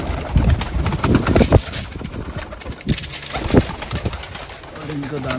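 Pigeons cooing loudly at close range as grain is put out for them and their young, low throaty coos repeating under a steady outdoor hiss, with a voice speaking now and then.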